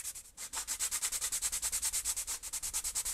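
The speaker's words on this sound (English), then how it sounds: "I'm going to take a sanding block and I'm just going to kind of do a little bit on each side." A sanding block rubbed quickly back and forth over a spiral depth gauge, a steady rhythm of rapid, even scratchy strokes, close and fairly quiet, with no talking.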